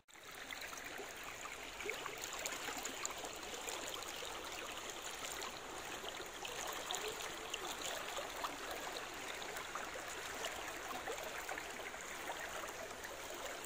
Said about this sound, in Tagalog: ito yung itsura ng ilog sa baba. Hindi naman siya ganong kalaliman pero malinis yung tubig